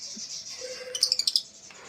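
Pet lovebirds chirping in a quick burst of sharp, high tweets close by, with softer twittering before and after.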